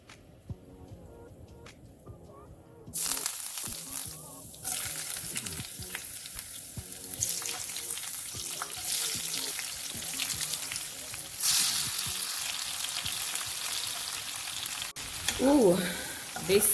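Onions, peppers and garlic sizzle and fry in virgin coconut oil, a loud steady crackle with stirring scrapes, after a quieter start.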